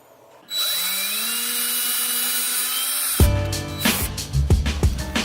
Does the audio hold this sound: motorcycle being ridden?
no